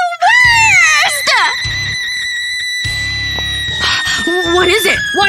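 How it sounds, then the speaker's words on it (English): A person lets out loud, close, wavering screams with sharp rising and falling pitch, broken by short pauses and a few other voiced cries. "Why are you screaming?"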